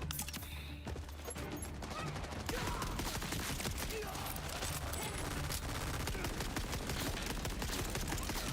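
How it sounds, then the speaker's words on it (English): Rapid, continuous turret gunfire in a video game: dense bursts of shots hammering without pause, loud and close throughout, with explosions and clatter mixed in. "those turrets that she has on there actually do a lot of damage to these guys"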